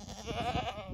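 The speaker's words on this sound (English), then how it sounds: "A goat was stuck and I opened the string for her so that she can go around." A goat bleats faintly on a strawberry farm in Warka, Poland, a single brief wavering call.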